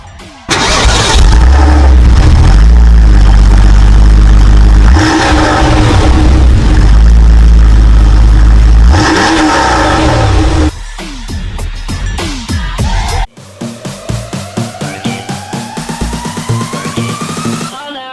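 A Porsche 993 air-cooled flat-six cranks and fires, then revs loudly in repeated surges and drops back, ending in a string of quicker throttle blips close by.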